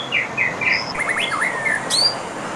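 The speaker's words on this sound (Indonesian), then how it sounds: "Ini ada burung murai juga." A white-rumped shama (murai batu) sings inside a bird shop, giving a run of clear, high whistled phrases and chirps that rise and fall over steady low room noise, with a brighter burst near the end.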